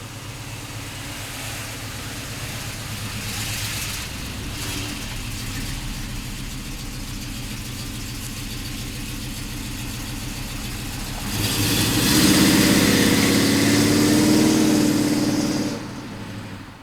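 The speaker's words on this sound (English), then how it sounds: "big block Chevelle, 1970 model, Rotisserie Restored, sounding great, driving great." A rotisserie-restored 1970 Chevrolet Chevelle big block idles with a steady, deep rumble close by. Partway through it revs up louder for a few seconds, then settles back toward idle.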